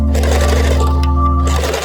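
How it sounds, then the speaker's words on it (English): A sewing machine runs a straight stitch joining the shoulder seams of an áo dài bodice, a loud, steady, close motor hum and rapid needle whir that holds throughout and eases slightly at the end. "Sew a straight stitch to secure."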